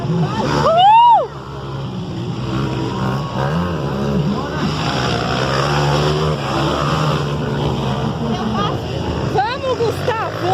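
Motocross motorcycles racing and accelerating at a Copa Iguaçu motocross event, engines whining and revving from mid-distance with rising pitch sweeps, under excited crowd shouting and cheering throughout.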